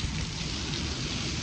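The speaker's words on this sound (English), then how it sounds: "It is raining." Rain pours steadily outdoors, a dense, even hiss of drops drumming on surfaces, moderately loud and continuous with no voices.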